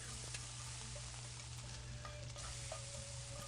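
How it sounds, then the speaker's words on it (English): Food stir-fries in a frying pan coated with mayonnaise, with lettuce, spinach and a rice mixture, as a visual novel sound effect: a steady, dense sizzle with soft stirring scrapes, continuous and close. "She heats a frying pan coated with some mayonnaise rather than oil."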